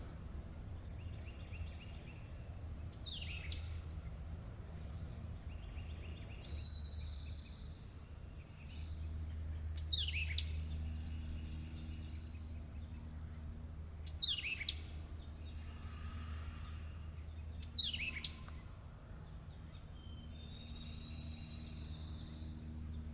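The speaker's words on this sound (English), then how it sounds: "You can still hear the birds, but they're a little different." Several birds chirp and call in short, scattered bursts during a solar eclipse, over a quiet, low background hum, some notes sharp and bright, others softer and farther off.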